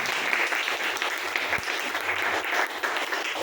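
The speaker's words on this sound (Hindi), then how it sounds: "और एक बार जबरदस्त तालियां चाहूंगा" A large audience claps continuously, a dense, even wash of applause throughout.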